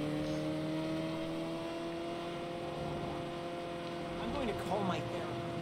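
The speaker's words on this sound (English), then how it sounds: "Oh, this car's slow as hell." Low, steady engine drone of a slow car driving in the video game Saints Row, with sustained tonal hum, a slight swell near the end and faint game sounds over it.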